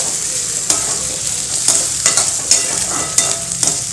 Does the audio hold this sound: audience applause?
no